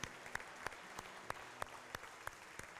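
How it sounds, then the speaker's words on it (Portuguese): Church congregation applauding during a service, a steady wash of clapping heard at a distance and fairly faint, with a few sharper individual claps standing out. "Dê um forte aplauso a Jesus"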